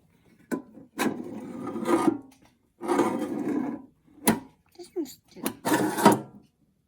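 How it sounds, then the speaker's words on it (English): Drawers of a Kobalt mini toolbox slide open and shut close by in several separate rasping strokes, with the bottom drawer giving a rougher, scraping rub as it moves. "that bottom one still sounds like it's scraping"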